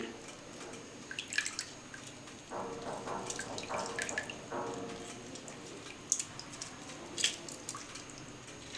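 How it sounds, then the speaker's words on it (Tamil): Half a lemon squeezed by hand into a tub of warm water, giving soft, close drips and trickles with small wet splashes scattered throughout, fairly quiet and with no talking. "இந்த தண்ணியில் அரை எலுமிச்சை சாரை புழிஞ்சு விடுறேன்"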